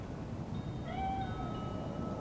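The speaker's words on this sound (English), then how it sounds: "It's just a cat." A cat in the video game Cyberpunk 2077 gives a single faint, drawn-out meow over a low background hum.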